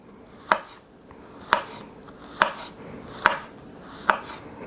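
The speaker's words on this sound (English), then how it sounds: "now I'm just going to cut them up into little tiny thin slices" A knife slicing a portobello mushroom cap into thin slices on a board, five crisp, evenly spaced chops against a quiet background.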